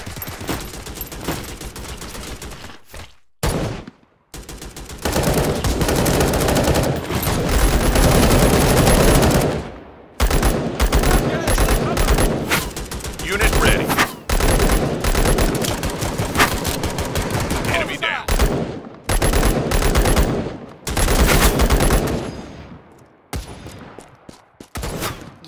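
Heavy gunfire in the battle game Tales of Glory 2, with long loud bursts of rapid automatic fire broken by short pauses and scattered single shots.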